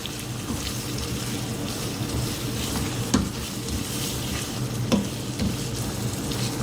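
Sliced medium tomatoes fry with onion, garlic and ginger in a pan, a steady sizzle under occasional stirring scrapes and clinks, close and continuous without speech.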